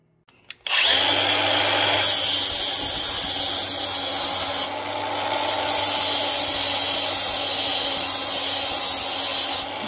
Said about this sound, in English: But I'm going to grind a couple flat spots here.